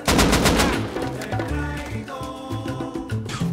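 Automatic AK rifle gunfire in the online survival game Rust, a fast close burst at the start that gives way to a steady clatter of quieter shots layered with other game sounds.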